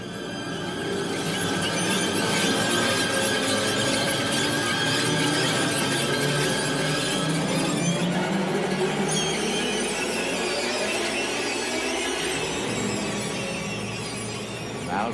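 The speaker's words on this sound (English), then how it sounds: "Throughout the scene, there is a high-pitched, violin-like sound." Shrill, screeching violin-like strings saw continuously at high pitch in a film score, a tense, grating orchestral wail that swells and holds for a long stretch.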